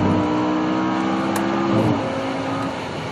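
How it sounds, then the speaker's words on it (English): Audi race car at Daytona braking hard from about 180 mph and downshifting to second gear, heard from onboard as a loud, dense engine roar with shifting harmonic tones and a brief sharp blip midway, no talking. "Braking area to down to second gear. Fighting with the traction here."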